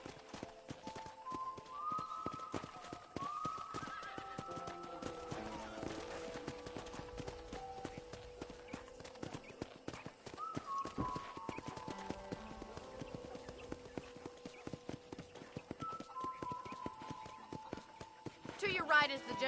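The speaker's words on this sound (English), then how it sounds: "let's see if you can still ride a horse" Horse hooves clip-clop at a steady gallop in the video game Red Dead Redemption on a ranch, rhythmic thuds throughout with game music and a brief whinny, while voices talk over it.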